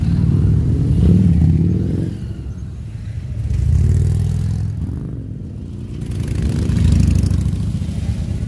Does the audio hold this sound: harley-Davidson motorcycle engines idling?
yes